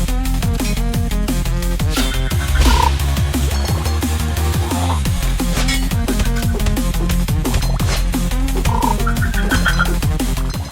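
Frogs in a block-building video game croak in fast, rhythmic, repeating calls, loud and continuous, layered over each other with no talking.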